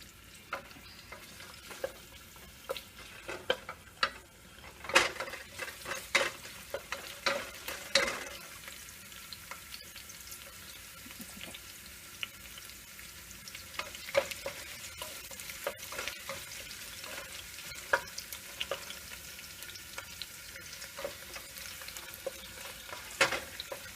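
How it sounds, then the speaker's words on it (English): Chopped garlic and onions sizzle in a pan for a tomato pasta sauce, a soft continuous frying hiss broken by scraping, clacking stirs of a utensil, heard up close with no voices. "Now that the garlic is lightly brown, I'm going to add the onions. Give that a stir."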